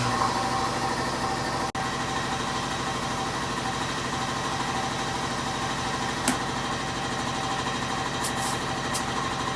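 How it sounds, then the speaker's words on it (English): Air compressor running steadily while inflating an oversized 22x11-12 golf cart tire, a continuous droning motor hum at moderate level with a single sharp click partway through and a few faint higher-pitched hisses near the end. "Okay, the air compressor turned off now."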